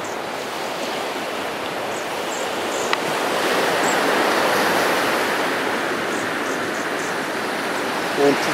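Waves washing onto a Seychelles beach by a beachfront restaurant, a continuous broad roar of surf that swells gently midway, fairly loud, with a few faint distant sounds in the background and no talk.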